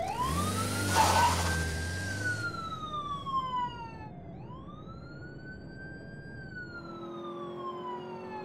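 A cartoon police car's siren wails in rising and falling sweeps over about eight seconds, loud and close at first, dipping and climbing again, with a low engine-like rumble underneath early on.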